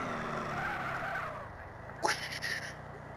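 Car in the game GTA driving fast on nitrous, a steady engine drone that drops away, then a sharp skid and tire squeal, with no talk.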